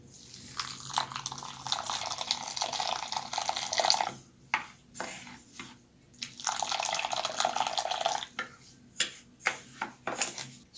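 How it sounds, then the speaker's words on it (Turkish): Hot water poured over bulgur to soak it for kısır, a close, steady splashing pour in several bursts separated by short pauses, ending in a few brief trickles. "İlk olarak bulgurumuzu sıcak su ile ıslatıyoruz."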